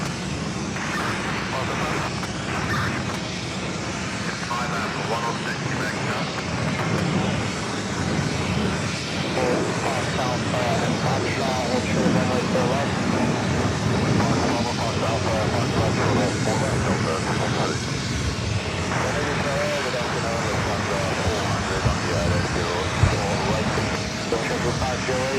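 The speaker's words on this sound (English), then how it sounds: "One World livery on an American 737-800 rolling down at 4 left." An American Airlines Boeing 737-800 in oneworld livery roars loudly and steadily as it rolls for takeoff on runway 4 Left at JFK, with radio chatter underneath.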